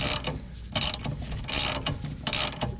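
Allen wrench turning inside the top of a rear strut on a 2003 Toyota Camry, giving three bursts of metallic ratcheting clicks about a second apart, close and fairly loud.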